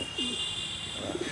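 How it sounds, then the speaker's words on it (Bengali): Pigeons sitting in the sun after bathing give a few soft, low coos close by, over a faint steady background hiss. "আমার কিছু পায়রা স্নান করার পর এরা রৌদ্রে"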